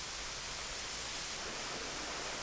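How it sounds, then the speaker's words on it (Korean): Cheonnadeuri waterfall in Jirisan National Park, fed by some twenty streams, pours in a dense, unbroken roar of falling water, steady and even throughout with nothing else audible. "20여 개의 물줄기로 흘러나오는 천나들이 폭포다."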